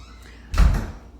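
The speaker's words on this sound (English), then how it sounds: "my son is going out the door" A house door thuds shut once as someone goes out, a single muffled close in a quiet indoor room.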